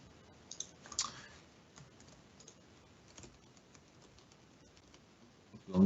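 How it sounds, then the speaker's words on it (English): Someone types on a computer keyboard with soft, scattered key clicks and small bursts of tapping, quiet and close in a hushed room, ending with a louder thump. "what I will do right now is type something here."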